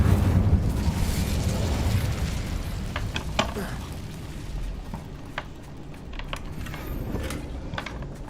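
A fire spell, Incendio, cast in the video game Hogwarts Legacy, producing a sustained roaring, crackling burst that fades into lower rumble with a few sharp pops, continuous throughout and fairly loud.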